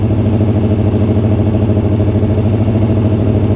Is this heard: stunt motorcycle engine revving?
yes